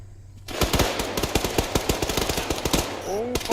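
Dense bursts of automatic gunfire and rapid single shots in the Arma III military game, loud and continuous, with radio chatter and voices underneath.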